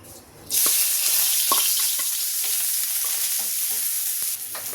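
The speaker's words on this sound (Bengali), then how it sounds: "আমি এর মধ্যে একটু পেঁয়াজ দিচ্ছি।" Onions drop into hot oil for a pineapple and fish curry, setting off a sudden loud sizzle that holds steady while a spatula stirs with scattered light clicks and scrapes.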